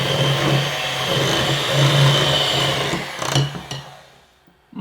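An electric mixer whirs steadily as it beats an egg and vanilla extract for peanut butter blossom cookie dough. The drone is close and continuous, then it clatters briefly, winds down and stops.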